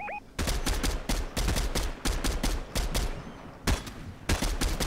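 Rapid bursts of automatic gunfire in a shooting video game, loud and close, in repeated volleys with short gaps between them.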